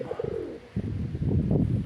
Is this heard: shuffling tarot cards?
no